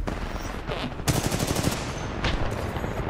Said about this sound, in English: Amp weapons.